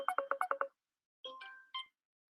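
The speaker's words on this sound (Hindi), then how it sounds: "जी सॉरी, मेरा एक फोन आ गया।" An incoming call sets off a phone ringtone: a quick series of six electronic chirps, a short pause, then a few longer melodic tones, clear and close in an otherwise quiet room.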